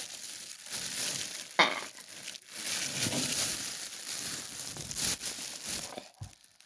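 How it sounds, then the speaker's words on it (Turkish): Plastic bag being adjusted, giving irregular crinkling and rustling bursts for several seconds, close by, with one sharp crackle partway through and no talking. "Ben şu poşeti düzeltmem gerekiyor."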